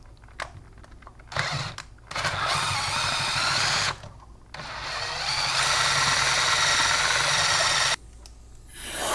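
Power drill boring a hole in a GoPro camera housing with the largest bit, whirring in several bursts separated by short pauses, close and loud.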